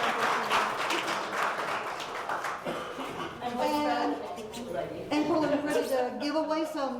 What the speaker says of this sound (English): did we clap for her good enough?